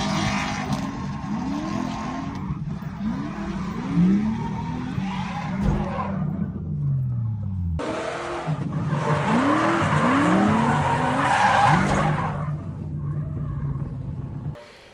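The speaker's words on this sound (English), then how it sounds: "The 2 guys that got sent out crashed into each other, broke a bunch of fiberglass on their cars." Cars skid and squeal their tyres at a drift event, among them an Infiniti G35. Loud, sustained tyre screech and engine rumble come in two long stretches, with a brief break between them.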